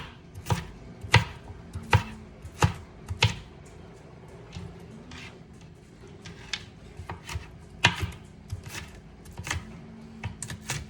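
Knife strikes on a cutting board chopping vegetables, including bell pepper, in an irregular series of sharp chops, close by, with brief pauses between bursts.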